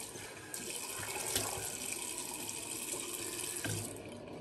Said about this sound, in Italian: bagno il pennello, bagno il viso soprattutto